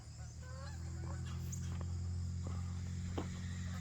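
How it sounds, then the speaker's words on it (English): Geese honk faintly in the distance, a few scattered calls over a steady low drone and insect buzz. "I hear geese."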